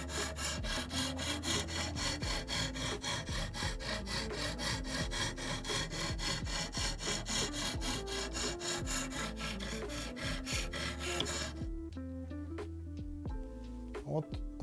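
Steady rhythmic scraping of a knife blade stroked back and forth across a CBN sharpening stone, close and continuous, then a few lighter strokes after a brief pause.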